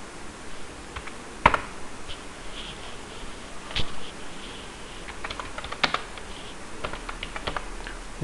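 A command is typed on a computer keyboard as a run of light, uneven key clicks at close range, with a few sharper taps, over a faint background hiss and no talk.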